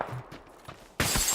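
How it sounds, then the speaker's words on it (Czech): A sudden, loud burst of gunfire in PUBG erupts near the end after quiet, muffled game sounds. "po mně někdo střílí, kámo"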